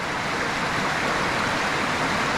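Porters Creek, swollen like a river, pours steadily and fairly loudly, a dense hiss with no other sounds.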